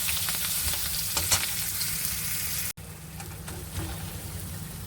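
Fish curry with potatoes cooked in a hot pan, a steady crackling sizzle with occasional stirring scrapes; it drops briefly at a cut, then carries on a little quieter.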